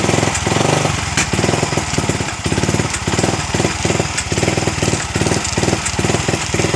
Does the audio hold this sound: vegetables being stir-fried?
no